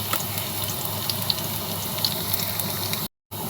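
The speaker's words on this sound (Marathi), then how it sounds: "लसूण चांगला भाजत आलाय।" Chopped garlic sizzles in hot oil in a pan while greens are cooked, a steady bright frying hiss that runs evenly throughout and cuts out briefly near the end.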